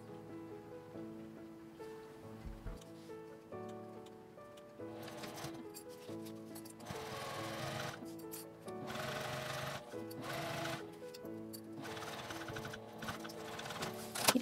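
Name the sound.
sewing machine stitching below the zipper seam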